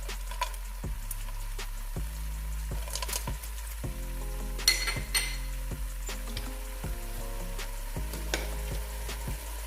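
Turkey pieces for a vegetable stew with thyme, curry, salt and a stock cube frying in a pot, a low steady sizzle with occasional clinks of a spoon or utensil against the pan, no voices.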